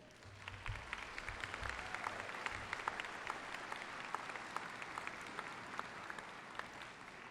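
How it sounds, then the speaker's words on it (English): Sustained applause from a large crowd at the Ivy Tech Community College Richmond 2019 commencement ceremony, a dense, even wash of clapping heard from a distance in a big venue. "let's give you a round of applause."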